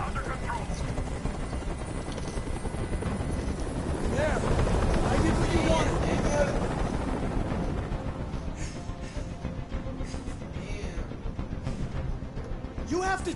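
A helicopter in the game Detroit: Become Human, a steady broadband rotor roar that swells in the middle and then eases, constant and close throughout with people talking over it.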